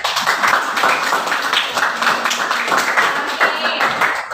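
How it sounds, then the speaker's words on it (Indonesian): Students in a classroom give a short round of applause, quick dense clapping from a small group at close range, fairly loud and steady for several seconds. "Beri tepuk tangan dulu."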